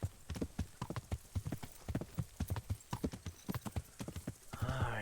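Horse hooves clip-clop at a steady walking rhythm in the Kingdom Come: Deliverance video game, close and clear, with a brief whinny or snort near the end.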